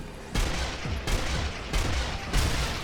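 A sniper rifle in the zombie shooter Sniper Elite Nazi Zombie Army fires four loud, evenly spaced shots, each a sharp crack with a booming tail, close and alone with no talk.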